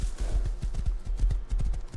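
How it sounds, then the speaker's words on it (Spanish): Horse hooves in the survival game Rust, a steady run of low thudding steps roughly every quarter second, fairly close and moderately loud, with no voices over them. "lo que suena ahora es el caballo, ¿no? Lo que está respirando"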